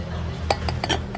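Crockery and dishes clink together while someone shops for household utensils, a few light ringing knocks in a row over a steady background hum.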